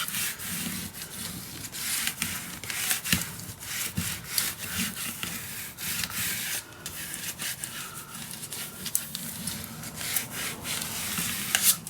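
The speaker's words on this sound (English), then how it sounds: "You can flip this and burnish it down with a bone folder or with any flat piece that you have." Paper being burnished flat with a bone folder for a Stamperia Magic Forest mini album, a steady dry rubbing and scraping with repeated strokes, close and fairly quiet, with no voices.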